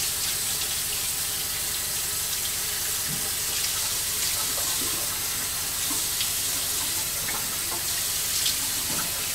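Tap water runs steadily into a sink while a chemical face peel of glycolic and lactic acid is rinsed off, a constant close hiss and splash with small irregular drips and no talking.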